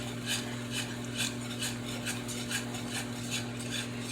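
A whisk scrapes rhythmically in a pan as milk is worked into self-rising flour over low heat, giving about ten even, close scratchy strokes over a steady hum.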